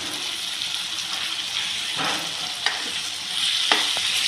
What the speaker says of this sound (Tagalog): Haluin lang yan. Haluin lang maigi. Para lumapot.